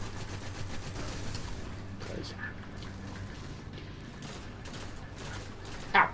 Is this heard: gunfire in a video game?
yes